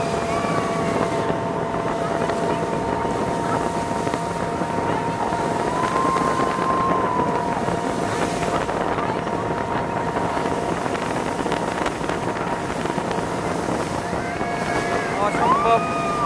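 A speedboat ride at a large park resort in Narayanganj, with a steady, loud motor drone and water and wind rush running the whole time under faint background voices.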